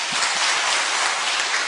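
Steady, dense applause from a church congregation, evenly sustained throughout with no voices over it.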